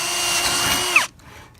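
A power drill fitted with a new 1/8 inch bit bores through a hole in a rear spherical kit install for a Honda Civic or Acura Integra, whining steadily for about a second before cutting off abruptly, close and loud.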